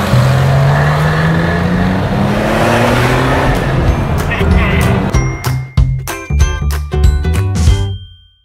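A Porsche 993 Convertible engine idles steadily with the top up, a low continuous hum, then a few light chimes and clicks near the end.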